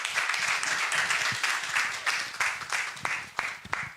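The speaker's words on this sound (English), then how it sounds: "let's clap for him." An audience at a World Asthma Day event claps for a panel discussion speaker, with a steady, fairly close round of applause and a few sharper individual claps near the end.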